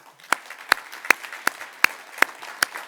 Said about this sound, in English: please join me in applauding all veterans for their service